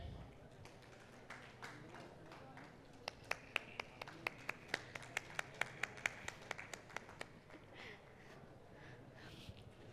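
An audience at a question and answer session breaks into a burst of crisp hand claps, a quick run of sharp individual claps that rises and then thins out, heard over low room murmur.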